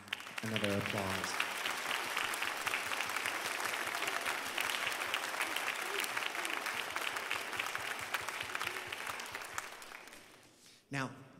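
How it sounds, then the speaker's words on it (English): Sustained audience applause for an elementary school winter choir at a concert, a dense steady clatter of many hands lasting about ten seconds, with a brief voice at the start and a short lull and burst near the end. "So would you join me in giving them another applause?"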